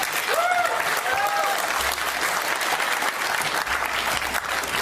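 An audience at a live debate on consciousness breaks into sustained, dense applause and cheering that fills the room at steady volume with no pauses.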